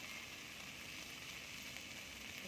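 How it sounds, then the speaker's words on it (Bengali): Spice paste with turmeric and chili powder frying in a pan for a vegetarian young jackfruit dish, giving a steady, faint, even sizzle with no pauses. "ভালো করে মশলাটা কষিয়ে নেবো আমি একটু হলুদ গুঁড়ো দিয়ে দিলাম সামান্য এবার দিয়ে দেবো লঙ্কার গুঁড়ো"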